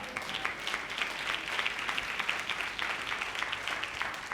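Congregation at a Tamil church communion service clapping hands together, a steady dense patter of many hands held at a fairly even level for several seconds with no talk over it.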